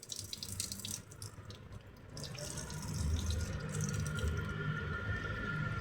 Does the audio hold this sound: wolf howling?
no